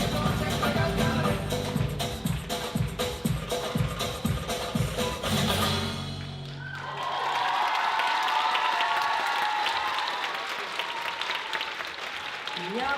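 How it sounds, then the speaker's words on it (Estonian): Loud audience applause and cheering fill the hall after a dance troupe's rumba performance, dense clapping continuing for several seconds before settling into a softer, steady round of claps. "Ja ovatsoonid on täiesti kohased."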